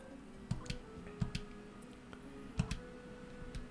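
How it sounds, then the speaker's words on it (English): Keyboard buttons click faintly in a quiet room, with a few sparse, irregular taps spaced over a few seconds and no talking. "I wonder if you can hear the buttons clicking through the mic"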